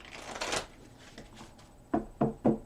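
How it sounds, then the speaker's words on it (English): Tarot cards being shuffled and drawn for an Aquarius reading: a soft riffling rush first, then three crisp card slaps laid down in quick succession, close and fairly quiet. "Let me take out more cards for your reading."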